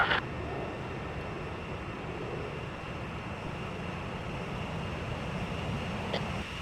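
Fighter jets in Ace Combat Zero fly toward a refueling craft with a constant, broad engine roar and a low rumble. The drone holds steady and close throughout, with a faint whine above it.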